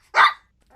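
A single short bark imitated by a human voice, loud and close, lasting a fraction of a second with silence around it.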